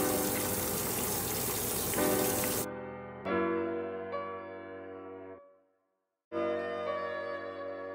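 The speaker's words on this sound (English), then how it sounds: "you're going to pour in the boiling hot water" Boiling water gushes loudly into a bowl, then stops; a resonant ringing pour follows in bursts, pausing briefly into silence before another stream resumes.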